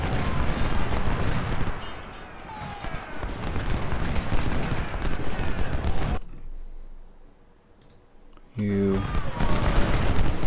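Gunfire in the Ultimate General: Civil War game during a battle at Laurel Hill, dense crackling volleys and booms that drop away to near quiet, then resume abruptly with a tonal burst.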